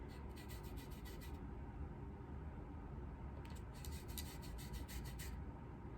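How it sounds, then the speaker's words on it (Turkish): Hair removal tool rubbed back and forth over skin, a soft dry scratchy rasping in two bursts of quick repeated strokes, close and faint, with a brief pause between. "Tüy dökücü bu alet."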